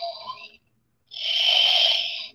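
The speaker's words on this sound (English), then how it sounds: "they start snoring" A Tiny Love Thomas baby toy makes snoring sounds: a short breathy snore, a pause, then a longer, louder, raspy snore, close and alone.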